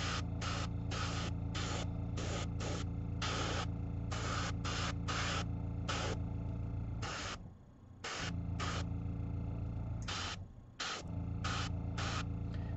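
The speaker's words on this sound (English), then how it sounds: "Just nice, quick, 90 degree sprays with this aged white." Airbrush spraying aged white paint onto skeleton miniatures in quick, repeated short hissing bursts over a constant low compressor hum, with a couple of longer pauses and no talk.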